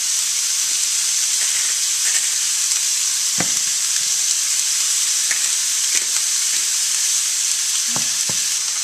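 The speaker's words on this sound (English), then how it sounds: "And then you leave it to fry without stirring for about 2 minutes, because that is going to make it nice and crispy and a little bit brown" Spiralised courgette spaghetti sizzles steadily in a frying pan, left unstirred, producing a constant loud hiss with a few faint pops and clicks throughout.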